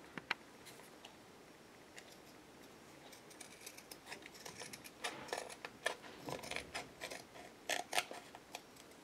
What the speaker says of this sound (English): Then I'm going to cut the extra leather off.